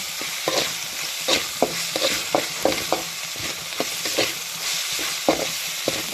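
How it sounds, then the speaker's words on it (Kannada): Ginger garlic paste sizzles in a hot pan as it is stirred for egg rice, a continuous frying hiss broken by a regular series of sharp scraping clicks from the spoon, close and fairly loud with no talk. "ಈಗ ಶುಂಠಿ ಬೆಳ್ಳುಳ್ಳಿ ಪೇಸ್ಟ್ ಹಾಕ್ತಾವನಿ"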